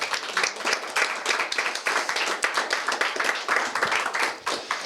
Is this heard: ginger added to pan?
no